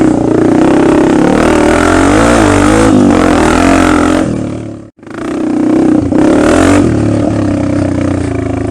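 A 2020 Honda CRF250F dirt bike engine revs hard and near, climbing and falling in pitch, then cuts out briefly before picking back up into more loud throttle blips.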